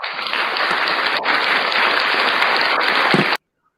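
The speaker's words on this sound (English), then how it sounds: "that was your little clap machine, Mike" Canned clapping from a little clap machine in a talk show studio, a dense, even wash of applause that cuts off abruptly into silence.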